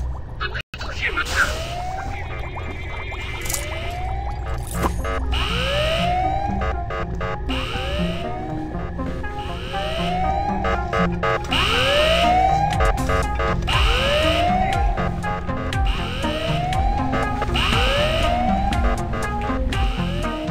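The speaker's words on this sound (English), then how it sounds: "we have to sound the alarm" Wailing alarm siren in the Ice Scream 8 horror video game: a steady rising-and-falling electronic wail repeating through the clip, loud and continuous over busy game sounds.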